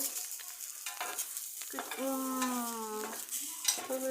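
Paratha frying in a hot pan on a home stove, a steady sizzle with scraping and stirring sounds, close by, while a voice talks intermittently over it.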